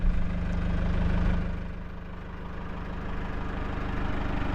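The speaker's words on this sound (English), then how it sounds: "in a new Mahindra tractor that moved the dirt around" A new Mahindra four-wheel-drive tractor with a skid steer quick release sits idling nearby, its engine making a steady low rumble that dips slightly in level partway through, with no voices.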